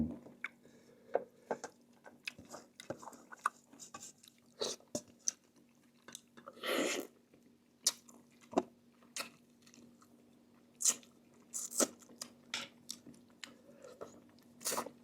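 Wet, crunchy chewing of fish head curry eaten by hand, a Mon-style curry with pickled plum mango, with close irregular bites, squishes and smacks and no talking.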